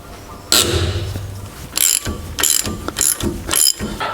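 Ratchet wrench clicks in short bursts while bolts are loosened on a Land Rover Defender rear axle, close and distinct, with pauses between the rapid pawl ratcheting.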